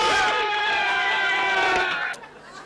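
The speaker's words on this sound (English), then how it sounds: "This is my own applause, just in case the audience didn't come." Prerecorded crowd applause and cheering played back on cue on a television talk show, a loud wash of screaming, cheering voices that holds steady, then drops off abruptly.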